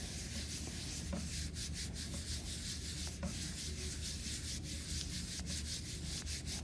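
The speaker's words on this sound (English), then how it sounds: "I'm just going to use the flat pads of my fingers to rub it." Fingertips rub paper steadily over an incised foam printing plate, producing a close, continuous soft scuffing and rubbing with small irregular swishes throughout.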